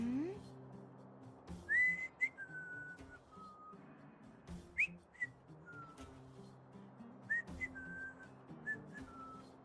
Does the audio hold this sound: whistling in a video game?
yes